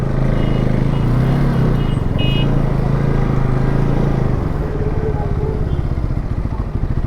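A vehicle drives along the road in Mahabaleshwar with a loud, steady engine drone and road noise close by, and the engine note slows and settles partway through.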